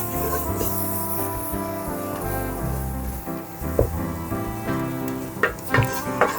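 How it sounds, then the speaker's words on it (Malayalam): Biryani masala, turmeric and garam masala are stirred together in a hot pan, with a soft continuous sizzle under scraping stirs and a few sharper knocks near the end. "ഇനി ഗരം മസാല ആഡ് ചെയ്ത് കൊടുത്തേ. എന്നിട്ട് മിക്സ് ചെയ്തെടുക്കാവേ."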